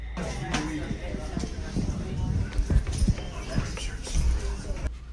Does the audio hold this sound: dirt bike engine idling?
no